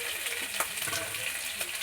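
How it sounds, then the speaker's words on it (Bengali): Barramundi fish bones coated in salt and turmeric frying in a pan, giving a steady soft sizzle with faint crackles throughout. "নুন হলুদ মাখিয়ে ভেটকি মাছের কাঁটাটা ভাজা হচ্ছে।"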